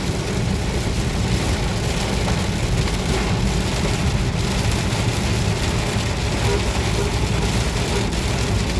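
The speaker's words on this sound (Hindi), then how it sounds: "भयंकर बारिश हो रही है।" Heavy rain pours down steadily at Nipani, India, a dense, loud hiss drumming on surfaces without a break.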